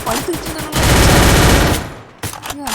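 Rapid automatic gunfire from the video game Free Fire bursts loud and close, a dense fusillade lasting about a second between shorter shot clusters.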